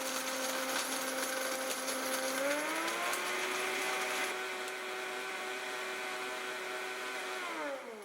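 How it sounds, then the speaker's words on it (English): A Vitamix blender runs steadily, grinding hard bones into powder with a loud whirring motor whine that shifts pitch partway through and winds down at the end. "what machine can take hard bones and turn it into a powder like this?"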